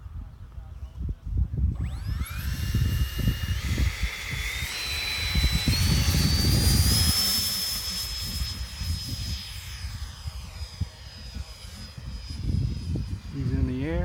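Tornado 75 model jet on its maiden takeoff roll, a high turbine whine rising steadily in pitch and holding loud, with wind rumble and people talking nearby.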